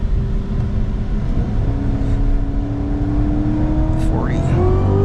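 A 2019 Cadillac CTS-V pulls hard in second gear, its engine droning loud and steady from inside the cabin as the pitch climbs, with a quick shift-like drop near the end.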